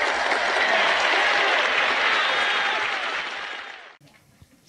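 An audience at a public meeting applauds in a dense, sustained burst of clapping that fades out, leaving a quiet room with a few faint sounds.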